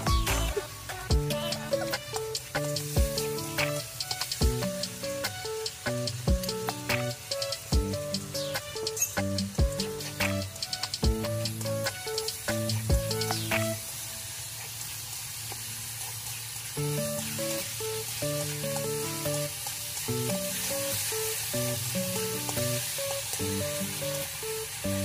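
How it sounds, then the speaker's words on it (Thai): Squid stir-fried with garlic and pepper in a pan, a continuous sizzle broken by frequent sharp clinks and scrapes of a utensil stirring against the metal, with a quieter, steadier hiss in the later part. "เสร็จแล้วก็ผัดต่อไปนะคะ"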